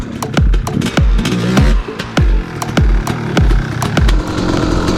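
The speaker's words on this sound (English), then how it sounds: "The engine's starting to get pretty warm. You can hear the difference in the motor." A warming dirt bike engine revs in rapid repeated bursts during clutch-pop wheelie practice, each throttle blip sharp and loud, with a rough mechanical rattle between pulses.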